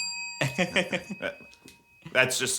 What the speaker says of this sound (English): Can I use this bell real quick?